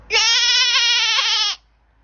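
A person imitates a goat's bleat in one sustained, loud, wavering nasal cry of about a second and a half, alone and clear.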